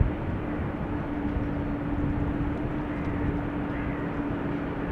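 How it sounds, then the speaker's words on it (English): An Austrian Airlines Airbus A320neo jet departing Amsterdam Schiphol for Vienna, a steady broadband engine roar heard from a distance, constant and unbroken throughout. "Austrian A320 Neo to Vienna, flight 372,"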